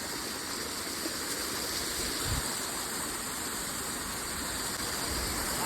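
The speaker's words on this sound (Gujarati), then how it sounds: "ઝરણું વહીને આવે છે." A mountain stream rushes steadily along the Harishchandragad trek in Maharashtra during the monsoon, a constant close wash of flowing water with no voices.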